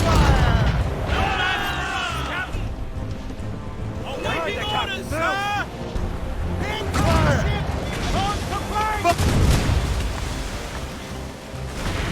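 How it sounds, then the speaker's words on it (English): Naval cannon fire and ship combat in Assassin's Creed Rogue, with booming volleys, creaking timbers and surf under shouting crew voices, loud and dense throughout. "Don't let her ram us, Shay! Fire!"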